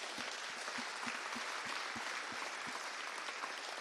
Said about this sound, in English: I just want to give another massive round of applause to everyone that has already pitched today